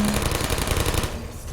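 Rapid automatic turret fire from the game Portal rattles in a dense, continuous burst that cuts off partway through, loud and close with no voices.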